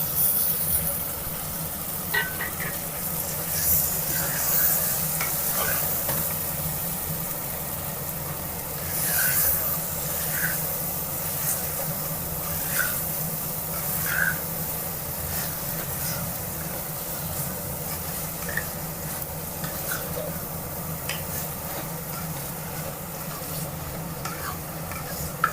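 Washed chicken pieces frying with well-sautéed tomatoes for a chicken kuzhambu, giving a continuous sizzle with scattered clinks and scrapes of stirring for about 25 seconds, close by and without voices.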